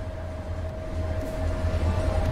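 Locomotive running at speed, pushed past its maximum, in the MaSzyna train simulator video game: a steady low rumbling drone with a constant high tonal whine, even and moderately loud throughout.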